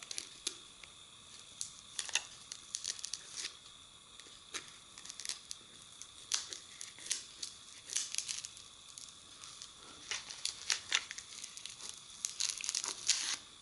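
A Lexan sheet being cut for an Otis elevator cover plate gives quiet, irregular crackling and snapping, with short sharp crinkles spread through the whole stretch.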